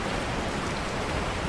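Steady, dense rain falls on a road at night in a murder-mystery audio story. It makes a constant, close hiss with no pauses and no voices.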